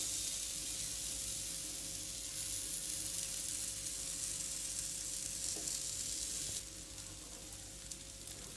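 Garlic cheese bread toasts in a pan on the stove, giving a steady soft sizzle and crackle of frying throughout, fairly faint and close, with a slight drop in the hiss near the end and no voices.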